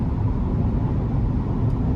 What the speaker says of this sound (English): when you don't try to give it throttle hard, it's actually a pretty comfortable sound that you get from the powertrain